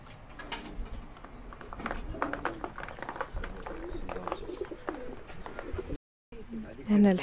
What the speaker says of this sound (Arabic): ثم هنا كاين الحمام